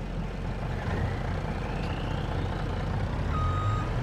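Truck in Farming Simulator 22 backing up, its engine idling under a loud continuous rumble while high reversing beeps sound near the end.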